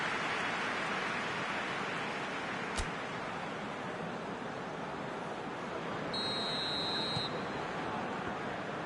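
In the PES 20 football video game, a referee's whistle blows twice to start the second half, short and fairly faint over a steady crowd-like hiss.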